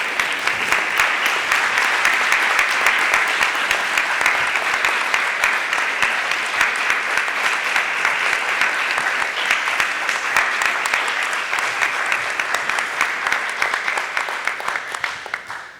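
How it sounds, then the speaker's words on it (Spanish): Sustained, dense applause from an audience at a tribute ceremony for Dr. Evandro Agazzi, marking his new appointment at Universidad Panamericana, steady and loud for about fifteen seconds before tapering off at the end. "Un muy fuerte aplauso para el doctor"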